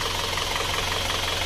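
A steady, low idle from an Isuzu Panther diesel engine with a worn cylinder liner and broken piston rings, a constant rumble and hiss, unchanging and close, with no voices.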